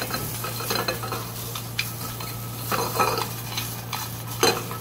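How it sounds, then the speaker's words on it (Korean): Onions stir-fried in a little butter hiss steadily, with repeated scraping and clacking strokes of a wooden spatula against the pan, close and moderately loud. "이렇게 계속 갈색이 날 때까지 볶아줘야 됩니다."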